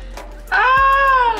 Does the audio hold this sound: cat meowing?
yes